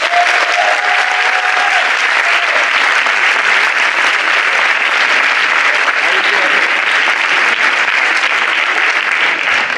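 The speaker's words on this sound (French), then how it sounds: "Un tonnerre d'applaudissements pour Hugo Gravier." Loud, sustained applause from an audience at the final of an eloquence competition, a dense steady roar of clapping hands filling the room without pause.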